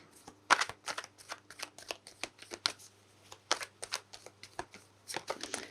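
Tarot cards are shuffled in repeated quick, crisp bursts of riffling and slapping, close and clear against a quiet background with a faint steady hum.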